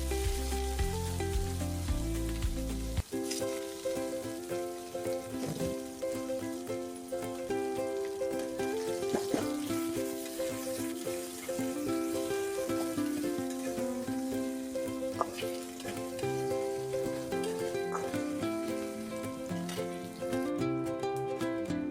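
Cumin seeds and crushed ginger fry in a pan for Odia dalma made without onion or garlic, giving a steady, soft sizzle that runs throughout beneath prominent background music.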